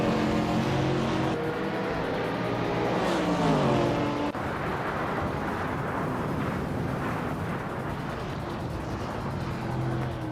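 Race cars in a racing video game, including a 1969 Loa T260: a loud engine drone with rising and falling revs, shifting pitch around a gear change, then a dense rushing roar, with no voices.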